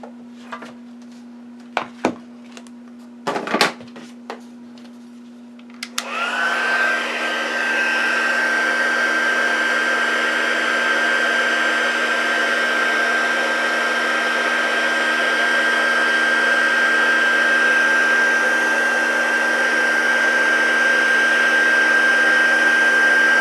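A craft heat gun melts embossing powder on a handmade card, switching on after a few scattered clicks and taps and then running as a loud, steady whooshing hum with a thin high whine.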